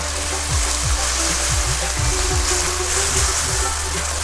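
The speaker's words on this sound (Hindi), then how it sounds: "और मैं अब इसे अच्छे से मिक्स करूँगी।" Baingan bharta, a village-style spicy mashed eggplant curry seasoned with cumin, salt and lemon juice, is mixed in a pan, giving a steady sizzling, frying hiss with repeated soft stirring scrapes, close and continuous.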